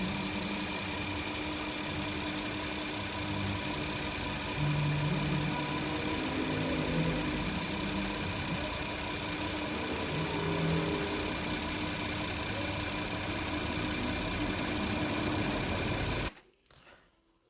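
A Kia K7 VG GDI V6 idles with a misfire in cylinders 2, 4 and 6 on bank 2. It makes a steady, close mechanical hum with a faint uneven ticking for about 16 seconds, then stops abruptly.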